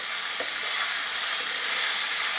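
Okra (bhindi) frying in a pan on a gas stove, a steady close hiss and sizzle that holds without break, with no talking.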